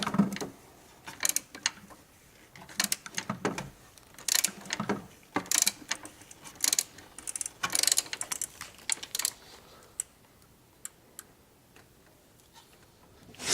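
A ratchet tool snugs down a part during an oil change on a 2011 Chevy Equinox with an Ecotec engine, producing quiet, irregular clusters of sharp mechanical clicks and ticks, close by and fading toward the end.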